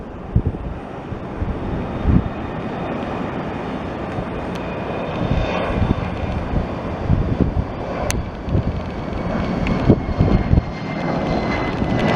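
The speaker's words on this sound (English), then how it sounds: "our MD-88 is coming out of the clouds and to RDU" An MD-88 airliner descends out of the clouds toward RDU airport, its jet engines making a steady, loud, broad roar over gusty wind buffeting the microphone.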